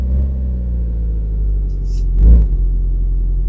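A battered but healthy Chevrolet Opala engine idles with a loud, deep, steady rumble up close, and briefly swells with a short throttle blip near the end.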